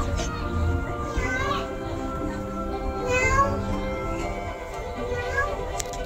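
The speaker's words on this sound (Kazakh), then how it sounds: "Осы кезде үй артынан мяу деген дыбыс шығады." A cat meows behind a house, giving a few short rising mews over a continuous backdrop of music and children's voices.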